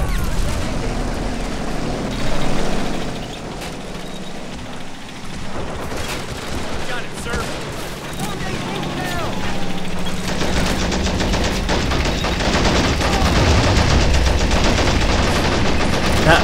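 Heavy battlefield gunfire in Men of War Assault Squad 2 includes an anti-tank PaK gun firing amid continuous machine-gun rattle and booming impacts, loud and dense throughout.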